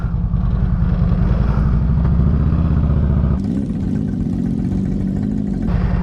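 Several motorcycles, six bikes heading out together for a Blessing of the Bikes ride, rumble loudly and close, engines revving and shifting as the group pulls away, with a change in tone partway through.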